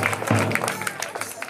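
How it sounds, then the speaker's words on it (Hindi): A studio audience at a general-knowledge quiz game breaks into clapping for a contestant, a dense scatter of hand claps heard close and steady beneath a voice talking over it. "सूरज के लिए जोरदार ताली बजाइए"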